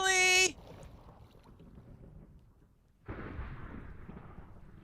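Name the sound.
thunder during a thunderstorm in the video game Minecraft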